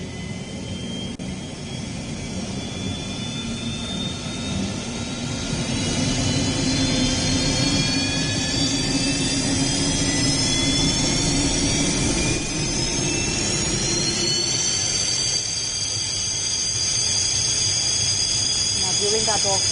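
A MiG-21 fighter jet of the Indian Air Force in flight, heard as a loud, continuous broadband roar with high whining engine tones that slowly climb in pitch and hold steady throughout.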